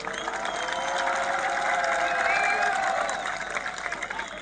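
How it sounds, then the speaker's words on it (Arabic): A crowd applauds at the opening ceremony of a Ramadan tournament in Mellassine. The clapping is a steady, dense roar mixed with cheering, lasting the whole stretch at strong, even volume. "اول عين كان سمعونا تصفيقة قوية على الملاسين"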